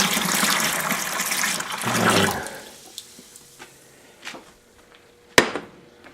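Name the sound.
pouring apple cider into a bucket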